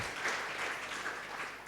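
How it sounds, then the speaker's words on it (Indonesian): Congregation applauding during an online church service, a short, faint stretch of steady, dense clapping heard from a distance. "berikan tepuk tangan meriah buat Tuhan kita"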